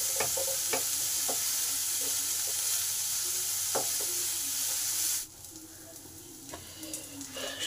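Onion frying with a little salt in a pan for a jute leaf (pat shak) dish, a steady close sizzle with sharp spoon-stirring clicks, dropping quieter near the end as the heat or stirring eases.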